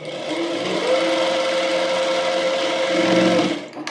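An electric sewing machine stitches the shoulder seam of an umbrella frock, a steady close whirring buzz with a faint rise near the end before it stops.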